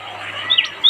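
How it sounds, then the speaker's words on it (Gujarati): Birds chirping on a farm, a few short high tweets in the second half over a quiet background with a low steady hum. "બાકી પક્ષીઓ કિલ્લોલ કરે છે હાલ તો"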